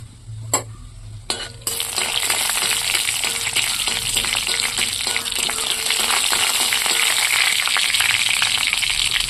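Dry red chillies and fennel seeds fry in mustard oil in a kadai for a mango pickle chutney. A couple of soft clicks come first, then a loud, steady, close sizzle runs on alone.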